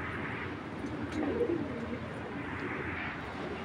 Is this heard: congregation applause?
no